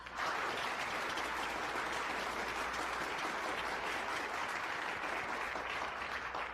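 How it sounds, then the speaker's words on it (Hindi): Applause from a studio audience welcoming a debate team, a steady dense patter of clapping that holds evenly throughout without any voices. "तालियों से स्वागत कीजिए टीम"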